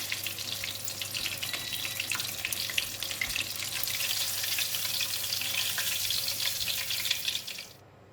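Deep-fried fish crackling in hot oil as it is lifted out, a steady close hiss of fine bubbling with scattered pops that cuts off sharply near the end.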